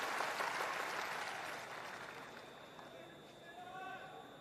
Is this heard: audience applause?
yes